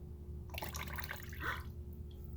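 Water trickles and drips from a squeezed sponge, a brief cluster of faint, close splashes and droplets over a quiet background.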